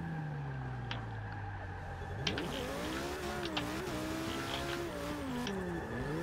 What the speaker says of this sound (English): We should be able to maintain some pretty long drifts in this car.